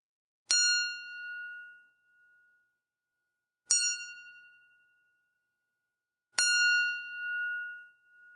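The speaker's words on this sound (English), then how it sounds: "That's the sound of a wine goblet being tapped with a plastic Bic pen." A lead glass wine goblet is tapped on its rim three times with a plastic Bic pen, each strike giving a clear, bright ring that lingers and fades away in a quiet room.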